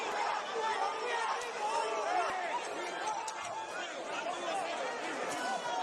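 Dense crowd roar and chatter fill a boxing arena in Las Vegas during a Manny Pacquiao fight, a steady loud hubbub with rising shouts throughout.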